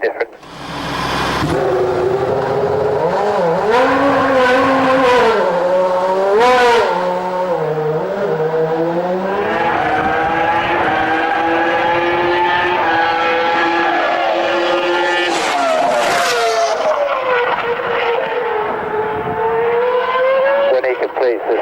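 Jaguar Formula One car from the 2000 season on an installation lap past the pits, its high-revving engine wailing steadily and rising through gears, loud and close, with voices talking over it.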